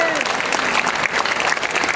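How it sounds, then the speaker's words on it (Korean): Church congregation applauding together during a worship service, a dense, steady wash of clapping throughout with a voice faintly over it. "우리 예수님께 다시 한번 영광의 박수 드립니다"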